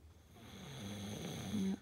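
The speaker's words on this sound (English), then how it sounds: "Yep, he's still snoring." A person asleep and snoring, one slow nasal snore swelling over a couple of seconds, close and fairly quiet.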